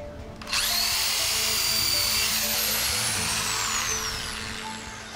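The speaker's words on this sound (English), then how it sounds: "So I'll drill this now to see if there's any difference." A power drill bores into Moreton Bay fig wood, with a loud, close whine that starts abruptly, holds steady and then slowly drops in pitch as it works through the timber.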